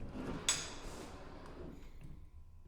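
A pocket door slides in a master bathroom of a newly finished house: a soft, quick scrape and knock at the start that fades into a quiet rolling hiss.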